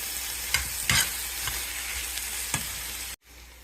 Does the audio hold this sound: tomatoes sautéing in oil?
yes